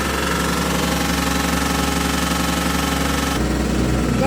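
A turbocharged car engine runs steadily after start-up, a loud, dense, close mechanical drone with a rapid knocking pulse, shifting in tone abruptly near the end.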